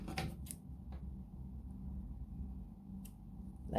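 Scissors snipping the excess thread from a handmade multistrand beaded bracelet, with a few quiet, crisp cuts close by early on and another one near the end, against a low background hum.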